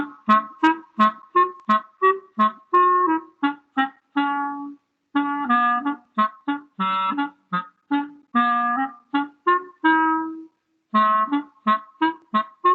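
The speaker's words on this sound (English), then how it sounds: "Here's a clarinet," A solo clarinet plays a lively run of short detached notes, close and clear, in a bouncy rhythm broken by a couple of brief pauses.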